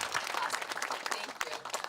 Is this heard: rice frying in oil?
no